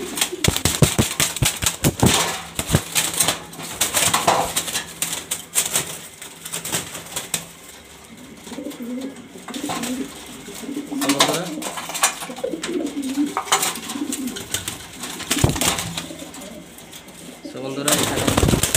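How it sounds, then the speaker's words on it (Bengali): Pigeons, including grizzle birds, coo and flutter their wings in a loft, with bursts of sharp flapping and soft cooing throughout, and someone talks over them at times. "বন্ধুরা এখানে দেখতেই পাচ্ছেন সব কোয়ালিটিফুল কবুতর মাশাআল্লাহ, পছন্দ হওয়ার মতো কবুতর।"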